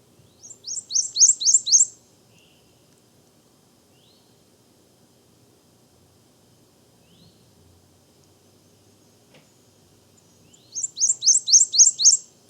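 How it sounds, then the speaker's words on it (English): A prothonotary warbler sings a loud, ringing series of about six rapid, upslurred notes that swell toward the end, then falls quiet before repeating the burst. "Here is a song of the prothonotary warbler."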